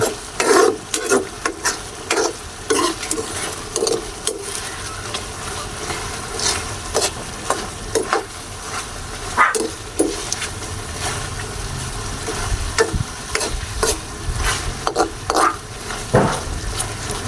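Chicken in a Sprite sauce sizzles and caramelizes in a pan while a utensil stirs and scrapes it in repeated bursts, with a steady frying hiss running underneath throughout.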